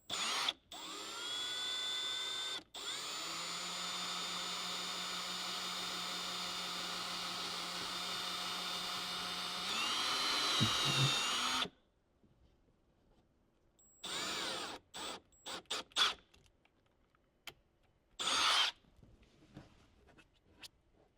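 Power drill boring holes for Molle panels in a Lexus GX550, a loud continuous whine lasting about ten seconds with one brief break, then several shorter drill bursts amid quiet pauses.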